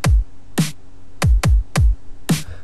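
A programmed FL Studio step-sequencer beat alternates punchy electronic kick and snare hits, six sharp dry strikes in a steady, slightly uneven rhythm, loud and clean with no voices.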